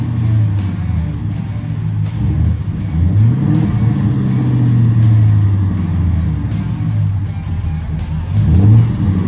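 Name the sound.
1978 Ford F150 4x4 truck revving and driving out of sand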